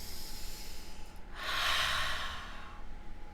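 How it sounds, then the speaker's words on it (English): A loud, deliberate breath in the style of Darth Vader, a single long airy rush swelling through the middle of the moment then fading, with no talking. "I would say Darth Vader breathing is encouraged."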